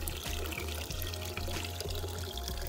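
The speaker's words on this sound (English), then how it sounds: "I'm putting it on the water hose." Water from a garden hose pours into a plastic baby doll, a continuous gushing trickle with soft rhythmic low pulses, fairly quiet and close, with no voices.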